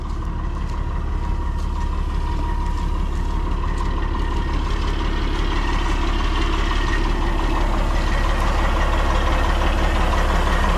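A heavy tractor engine idles steadily nearby with a deep, constant rumble and low chugging throughout.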